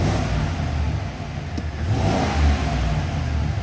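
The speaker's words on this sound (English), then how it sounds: "And let's give it a couple revs." A 2024 Chevrolet 2500 HD High Country 4WD pickup with the 6.6L engine revs up steadily from inside the cab, a loud continuous mid-pitched roar sustained through the whole stretch with a slight swell near the end.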